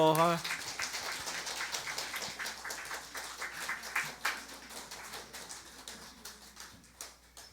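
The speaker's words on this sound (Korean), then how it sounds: "우리 박수로." A congregation applauds during a Korean church service marking a tenth anniversary and the appointment of church officers. A burst of clapping starts strong, then settles into scattered, irregular claps that gradually thin out.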